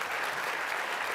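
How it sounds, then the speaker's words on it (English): A full audience claps continuously and evenly at a student honors celebration, a close, dense round of applause with no break. "let's give him a round of applause"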